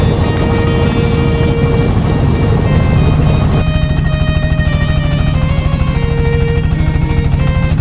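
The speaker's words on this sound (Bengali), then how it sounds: "এদিকে পানির সাথে লড়াই করে চলছে নৌকার ইঞ্জিন।" A boat's engine chugs steadily and loudly on a river in the Kurigram char area, its rapid even throb holding for the whole stretch with no voices.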